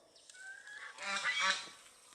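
Ducks at a monastery in Southeast Asia give off loud honking calls, a cluster of raspy goose-like honks overlapping near the middle, faint at the start and heard from a moderate distance.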